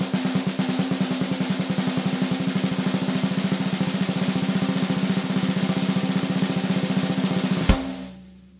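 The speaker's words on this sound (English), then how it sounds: "So for those of you that don't know what the double stroke roll is" A double stroke roll on a drum kit sounds as a fast, even stream of close, crisp strokes for about eight seconds, ending on a sharp accented hit that rings out and fades, with no speech.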